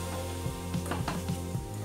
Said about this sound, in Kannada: ಇದೇ ತುಪ್ಪದಲ್ಲಿ ರವೆ ಹಾಕ್ಬಿಟ್ಟು ಫ್ರೈ ಮಾಡ್ಕೊಳ್ಳೋಣ.